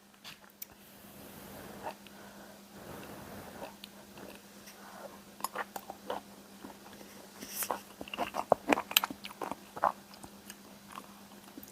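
Eating creamy parmesan shrimp with crusty bread: close, quiet chewing and soft crunchy bites that grow denser toward the end, over a low steady hum.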